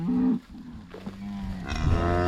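Cattle on a farm moo loudly and close by, one long low call followed by a second rising bellow, with no talking over them.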